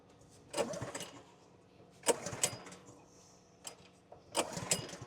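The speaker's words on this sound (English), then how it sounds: "we'll turn our pump on" A water pump on a farm starting up, with hoses laid out: three loud, rough mechanical bursts rise out of a low, steady rumble and fade back between them.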